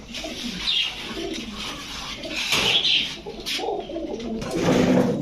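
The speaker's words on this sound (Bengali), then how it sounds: "কালারে কালারে ম্যাচিং করা তিন জোড়া কবুতর" Three matched pairs of pigeons, Pakistani Teddy and similar fancy breeds, coo repeatedly at close range with soft throaty calls and some chirps, steady over a faint background rustle.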